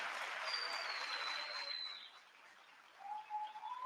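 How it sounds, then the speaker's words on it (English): An audience applauds art winners at an MLK celebration event, a moderate burst of clapping that thins out midway, with faint whistling tones over it and a brief swell near the end. "Please join me in applauding our art winners."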